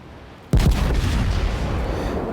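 Battleship-caliber main guns fire in World of Warships, a sudden heavy boom striking after a brief quiet and rolling on into a long, low rumbling decay.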